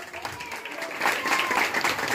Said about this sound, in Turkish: Bunları bir alkışlayabilir miyiz canlı gönülden?